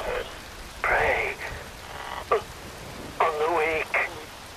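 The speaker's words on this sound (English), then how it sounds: "Wind blows, rain falls." Steady rain falls in the Metal Gear Rising: Revengeance video game on Xbox 360, a constant soft hiss under a voice talking in bursts.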